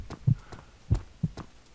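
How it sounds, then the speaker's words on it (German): Heartbeat effect from the horror video game Amnesia, a deep muffled thump repeating in pairs at a slow, uneven pace, close and prominent over a faint background hum. "Kommt dieser Herzschlag her"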